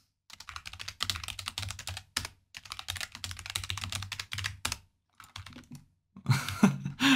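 Rapid bursts of clattering keystrokes on a computer keyboard while typing a chat message, close and crisp, with brief pauses between runs of typing.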